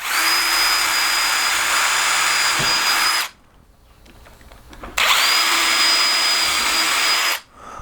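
A power drill bores a hole through a wooden lantern table bottom in two loud, steady whirring runs with a short quiet pause between them.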